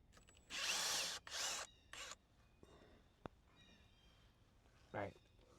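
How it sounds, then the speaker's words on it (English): A hand-held power drill at a sawmill whirs loudly in two longer bursts and a shorter one, then goes quiet apart from faint clicks and a brief later noise, heard close up. "Keep the drill straight. You got to move the drill."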